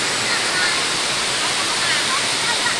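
Huai Mae Khamin waterfall in a forest in Kanchanaburi, Thailand, gives a loud, steady rushing roar of falling water that fills the whole stretch without a break.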